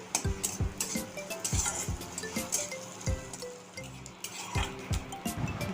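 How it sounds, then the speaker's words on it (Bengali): Onion, garlic, ginger and chilli stirred in a metal pan for bhindi bhaja, with a utensil scraping and clinking against the pan in quick, uneven strokes over a faint sizzle, close up and without speech. "পেঁয়াজ, রসুন, আদা, লঙ্কা হালকা নাড়াচাড়া করে"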